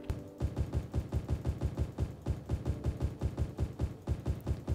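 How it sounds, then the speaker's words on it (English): Tree planting in the city-building game Cities: Skylines makes a fast, steady run of loud, punchy thuds repeating about five times a second with no pause and no voices. "I've just been planting trees for like the past 10 minutes and the thudding sound just never gets annoying."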